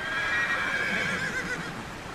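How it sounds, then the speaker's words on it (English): Loud whinnying from Munabek's horses running wild on a high Kyrgyz farm, a long, wavering neigh that sustains and fades over about two seconds, with faint hoof clatter underneath. "This is farming Kyrgyz style, and Munabek's horses run wild up here."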